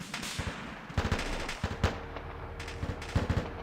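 Rapid bursts of Arma 2 gunfire and explosions crackle in quick succession, sharp repeated blasts at moderate volume with a busy rumbling background.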